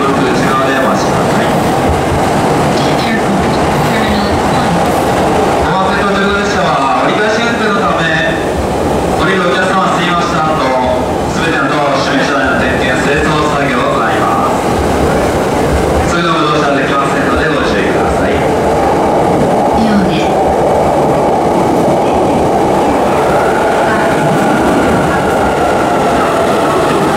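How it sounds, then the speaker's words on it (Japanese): An E259 Narita Express limited express train pulls in at a station platform, its rumble and wheel clatter continuing steadily under platform announcements and crowd chatter. "この次は乗り込みの特急列車の到着です。"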